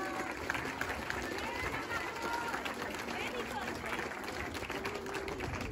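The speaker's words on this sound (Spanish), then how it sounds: "El aplauso para despedirnos de este podio" Outdoor applause from a crowd at a 5K road race awards podium, a continuous, moderately loud patter of clapping mixed with chatter and murmuring voices around it.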